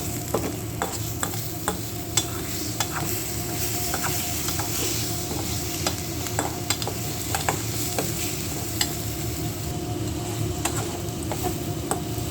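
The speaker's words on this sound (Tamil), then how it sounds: "பாருங்கள் இந்த முட்டை வெந்துக்கிட்டு இருக்குது" Egg frying and simmering in curry in a pan covered with a plate, giving a steady close sizzle with scattered small pops and clicks throughout, no voices.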